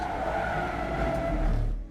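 A Porsche 911 Cup race car slides and skids on a wet, slippery track during a formation lap at Le Mans, a steady engine drone with tire hiss, close and fairly loud, fading out at the end.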